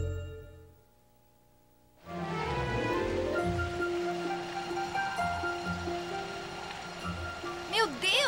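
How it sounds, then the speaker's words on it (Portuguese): A strong cartoon wind gust kicks in after a short lull and keeps rushing loudly as a broad steady roar, with a musical score playing beneath it and a brief whooshing flourish near the end. "Este super vento está me empurrando."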